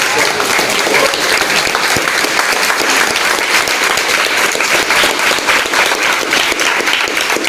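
Sustained loud applause at a film press conference for the scale-model makers, many hands clapping in a dense, even roar that runs throughout without a break.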